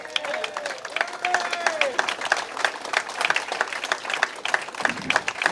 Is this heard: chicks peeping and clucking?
no